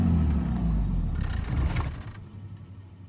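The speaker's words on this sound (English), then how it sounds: "So I'm gonna shut the truck off for now because it's loud and it's annoying." A loud Dodge truck engine rumbles close by, its heavy drone slowly fading as if it is being shut off, leaving a low hum at the end.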